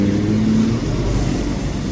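Vehicles pulling away from a temple after a Prime Minister's visit, a continuous low engine rumble with a brief rising tone early on, fairly close and steady throughout.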